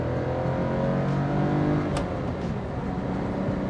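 A manual Mercedes 280SL R107 engine revs steadily and loudly toward redline, a continuous close-up mechanical roar with no speech over it.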